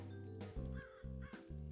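A crow caws a few times in the modded Minecraft video game, sharp harsh calls in quick succession over steady background game music.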